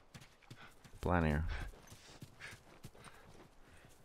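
Horses walking in The Last of Us video game, with soft hoof clops under players' talk and a loud, brief vocal burst near the start.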